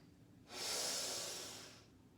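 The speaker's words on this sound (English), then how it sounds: "Inhale through the right." A single quiet inhale drawn through the right nostril during alternate nostril breathing in a morning yoga breathing session, a soft airy rush lasting over a second, close and alone.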